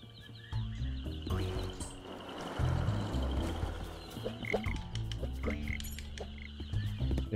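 Frogs croaking in the Ben 10 Power Trip video game, repeated low throaty croaks in an uneven rhythm over steady game ambience and music, fairly loud and close.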